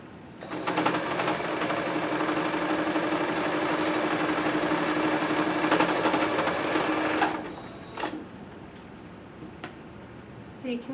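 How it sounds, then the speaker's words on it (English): A sewing machine runs steadily for about seven seconds while stitching a tube along the edge of a fabric face mask, humming close and loud, then stops abruptly and leaves quiet room tone with small handling noises. "So you want to sew this here while still leaving a tube at the end."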